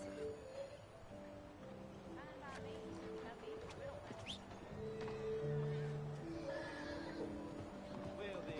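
A horse neighs in the video game Red Dead Redemption 2, with a drawn-out whinny midway over soft hoof clip-clop and quiet game ambience.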